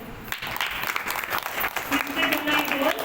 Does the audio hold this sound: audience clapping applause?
yes